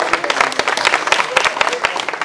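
Dense, steady applause from the audience at a Hindi kavi sammelan poetry event, many hands clapping at once with sharp scattered claps throughout, loud and continuous.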